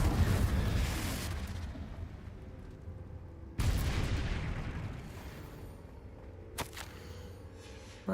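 Confringo blasting spell in the Hogwarts Legacy video game: two heavy booming explosions with rumbling tails, the second about three and a half seconds after the first, followed by a sharper crack near the end.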